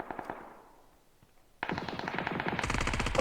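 Automatic gunfire in the PUBG PC game on the Rondo map starts abruptly and keeps going as a loud, rapid burst, growing denser near the end after a quieter lead-in.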